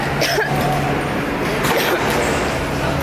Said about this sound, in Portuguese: eu peço desculpas aí que eu tô tossindo bastante mesmo